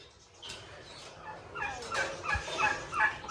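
Several turkeys gobble in a burst of overlapping calls, growing louder and busier toward the end, fairly close by.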